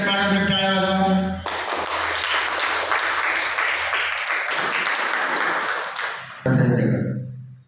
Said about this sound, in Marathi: कलेक्टर मॅडम टाळ्या वाजवा